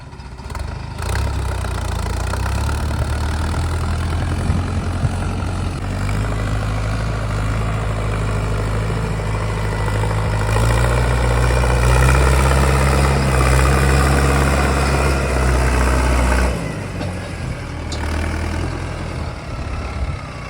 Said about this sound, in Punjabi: ਚਲੋ ਕੱਢਦੇ ਆ ਟਰੈਕਟਰ ਬਾਹਰ ਧਰਤੀ ਵੀ ਗਿੱਲੀ ਹੋ ਗਈ